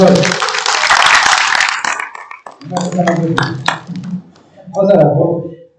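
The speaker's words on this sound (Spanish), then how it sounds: "Un aplauso al Señor." Members of a church congregation burst into applause for the Lord, a dense burst of clapping lasting about two seconds that quickly fades, followed by voices talking and murmuring nearby.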